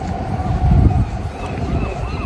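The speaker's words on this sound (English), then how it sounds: "I don't know if you can hear me, it's very windy" Steady low rumbling wind buffeting the microphone, with a gust swelling midway and faint voices buried underneath.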